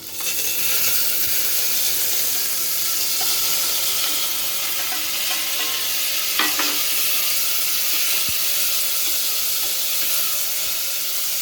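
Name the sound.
stirring rajma rice with vegetables while it cooks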